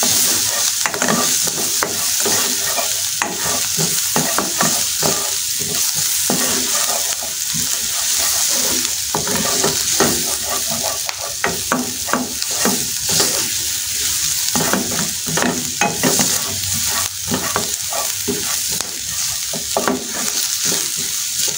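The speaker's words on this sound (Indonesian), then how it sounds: "Bawang merah kita tumis sampai harum dan wangi." Green beans, tempeh, garlic, shallots and chili stir-fry in a hot pan, a steady loud sizzle broken by repeated scraping and tossing strokes of a spatula throughout.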